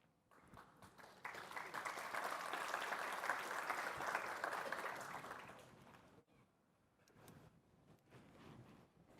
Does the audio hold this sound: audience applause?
yes